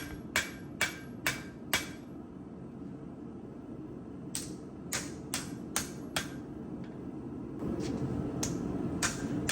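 Sharp metallic hammer blows forging a knife from chain steel ring out in quick groups of four or five, pausing between bursts, over a low steady background hum.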